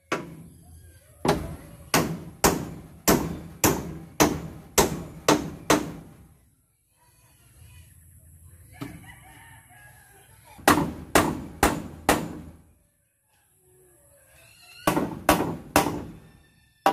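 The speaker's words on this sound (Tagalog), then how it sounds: "Yan, tapos na po dito ang pinako. Lipat na naman si Robin dito sa kabila." Hammering nails while building a goat pen outdoors: bursts of rapid, evenly spaced hammer blows ringing on nails and wood, close and loud, separated by pauses with quiet background sound.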